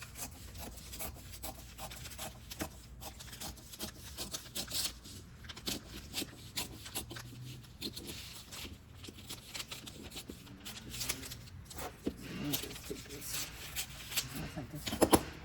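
Scissors cutting through a paper shawl collar pattern, producing irregular rustling snips and paper crinkles close up, with brief murmurs of speech in places.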